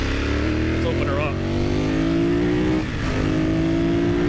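Motorcycle pulling hard at full throttle, its engine note climbing steadily in pitch as it gains speed, loud and close with wind rush and a brief dip near the end; a rider talks over it.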